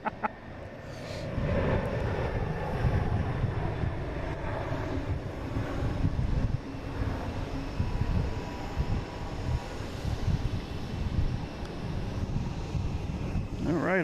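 An ITA Airbus A330-200 spools up for takeoff to Rome, a moderate, rumbling engine drone that holds steady with some gusty wind noise on the microphone.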